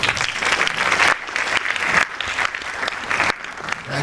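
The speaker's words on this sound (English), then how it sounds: "Another round of applause, please." A live audience at a presentation event claps loudly and continuously, a close, dense wash of hands with a few brief dips in intensity.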